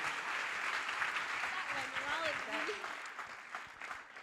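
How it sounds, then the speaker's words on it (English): An audience at a STEM racing world finals competition in Singapore gives a sustained round of applause, a dense wash of clapping heard from a distance with voices and cheers mixed in. "Just one more massive round of applause."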